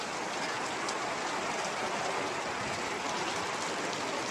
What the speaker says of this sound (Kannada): ಮಳೆ ಯಾವಾಗ ಬರ್ತೈತಿ ಯಾವಾಗ ಹೋಗ್ತೈತಿ ಗೊತ್ತಾಗಂಗಿಲ್ಲ